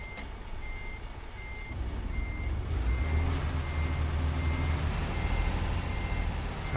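Steady repeating reversing beeps from a truck in a trucking video game, ringing out in an even rhythm over a low rumbling engine that grows louder partway through.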